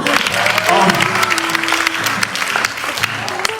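An audience at a Christian gathering claps in a steady, fairly loud burst of applause, with a voice briefly audible over the clapping.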